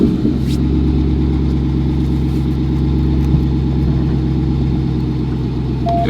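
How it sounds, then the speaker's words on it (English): An SRT Jeep engine idling, a loud, close, steady low rumble with an even tone that holds for the whole stretch and never revs. "If you start the car back up."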